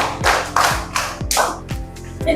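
Rhythmic group clapping in a classroom, several loud, separate claps in a steady pattern as a class practises a counted clapping exercise, with a few softer taps between.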